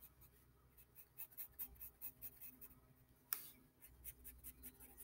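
A pencil shades in a drawing of a Scar rifle from Fortnite, with quick repeated scratchy strokes on paper in an uneven rhythm, close and fairly quiet, and one sharper tap partway through.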